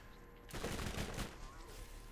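Turret gunfire in Borderlands: Zombie Island of Dr Ned, a short rapid burst of shots lasting under a second, then a fading tail over quiet background.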